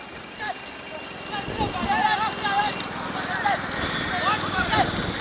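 Bullock hooves clatter in a quick, uneven clip-clop during a bullock cart race at Chinnamanur, with loud voices carrying over the running animals throughout.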